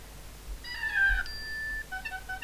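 An iPad 1 notification chime rings out as a short run of clear, bright tones, a held note, then a quicker follow-up pattern, alone in a quiet room.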